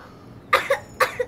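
Two sharp, close coughs, each a strong burst followed by a smaller catch, about half a second apart, loud against a quiet room.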